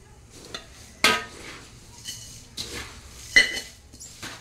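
Chilli powder and turmeric being mixed into puffed rice chivda, with a spoon clinking and scraping against a metal pot in several distinct strokes, close and clear.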